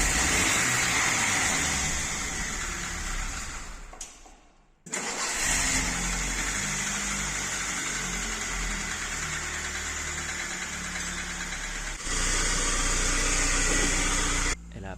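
A BMW E36 engine starts and runs with loud, constant knocking. The mechanical clatter carries on for about fifteen seconds with a brief dip early on, close and loud, with no one talking.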